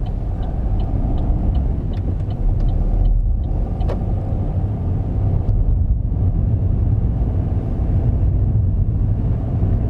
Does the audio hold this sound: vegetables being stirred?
no